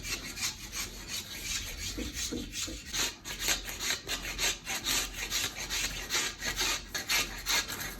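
Bark being peeled and scraped off a wooden walking stick outdoors, a steady rhythmic rasping and rubbing with repeated strokes, close and moderately loud with no talking.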